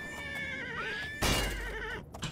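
A horse in the video game Oblivion whinnies with a high, quavering neigh, followed by a burst of rushing noise and a few soft thumps, fairly faint overall.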